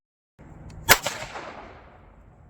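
A 4,000-joule exploding wire machine fires on a rock, a single sharp crack after a brief low hum, followed by a short echoing tail and fading rumble, loud and close with no talk.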